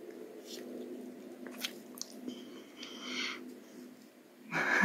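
Someone chewing and eating cherries close up, with soft wet biting and mastication sounds, some breathing through the nose, and a louder rustle at the end.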